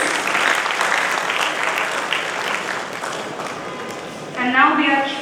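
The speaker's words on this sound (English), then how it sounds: "Can we please have a big round of applause for our dignitaries?" An audience claps steadily at a college semiconductor workshop ceremony, a dense roar of applause that swells near the end as a voice begins speaking over it.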